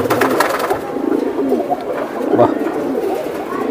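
Large silver pigeons, big hobby birds kept for show rather than flying, coo in a close, continuous throaty murmur, several birds overlapping in soft rolling calls.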